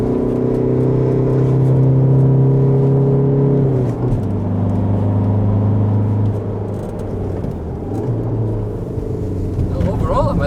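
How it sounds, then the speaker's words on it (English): A Volkswagen Golf on a racetrack, its engine droning loud and steady before a gear change drops the pitch, then climbing again under conversation from inside the car. "Look at that little Golf go."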